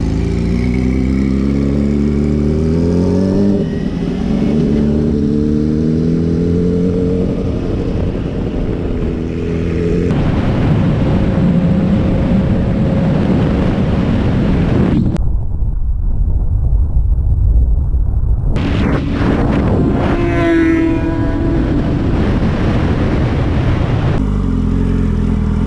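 A Yamaha R6 600cc sport motorcycle on the road, its engine loud and close as it revs up and shifts through gears repeatedly, with heavy wind rush throughout and a brief dip where the wind noise changes.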